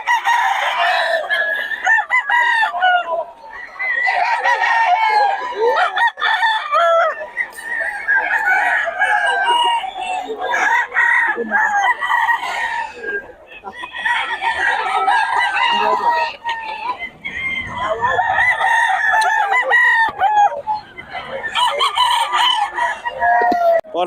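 Roosters crow repeatedly and cluck close by in a lively chorus, with loud overlapping calls that continue almost without a break. Faint human voices can be heard underneath.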